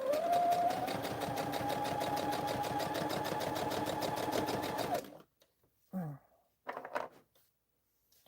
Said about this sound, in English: let's see what it looks like when I sew it down on this side. To put the little part on top. And chain stitch.